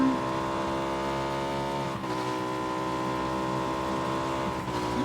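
Motorbike ridden in a video game, a steady sustained engine drone with a strong buzzing tone that holds level, briefly dipping twice as if shifting or easing off, with no voices.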